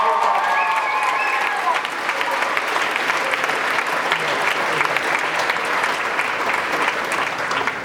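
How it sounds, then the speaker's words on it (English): Audience applause fills a Year 12 graduation assembly hall, a dense, steady roar of many hands clapping throughout, with a few brief voices rising near the start. "Give a round of applause."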